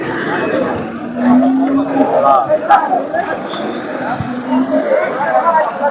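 Bullocks lowing at intervals amid a busy crowd at a cattle market in Punganur, with people chattering nearby throughout.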